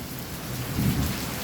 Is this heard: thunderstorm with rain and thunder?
yes